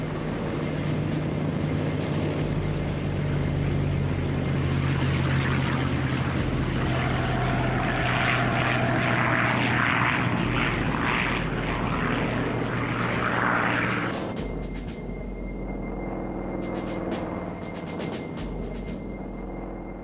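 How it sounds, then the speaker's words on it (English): Japanese propeller warplanes take off for the Pearl Harbor attack, a loud continuous drone of piston engines with a steady low hum, rising in intensity before easing into a quieter, lower rumble as they climb away. "the first wave of Japanese aircraft took off"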